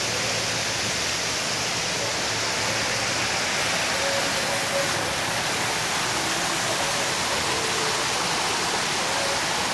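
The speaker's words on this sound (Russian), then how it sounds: "И тут внизу камешки, сложенные в небольшие стены, и по ним стекает вода." Water trickles down low walls of stacked stones in a Las Vegas hotel fountain, a steady broadband splashing wash that stays even and fills the scene, with no one talking.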